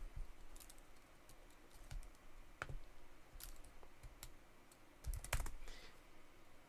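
Typing on a computer keyboard during a Node v22 install on Windows 11, a quiet, close series of irregular key clicks with a few firmer taps and a brief cluster of keystrokes near the end.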